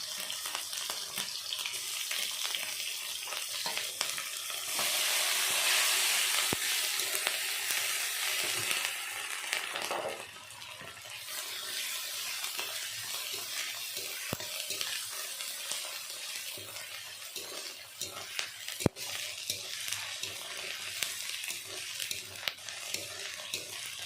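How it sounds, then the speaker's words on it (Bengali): A loud hiss of frying tomato, grated ginger and green chillies in a pan, briefly surging at the start, then settling into a softer continuous sizzle with scattered clicks and no talking. "টমেটো আদা আর কাঁচা লঙ্কা ভালো করে ভাজা ভাজা করে নিয়েছি"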